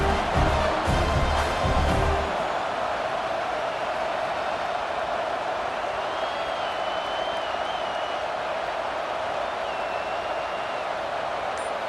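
Steady roar of a stadium crowd in a Texas A&M college football video game, a loud, continuous wash of cheering and applause, with a brief voice at the start and faint whistles later.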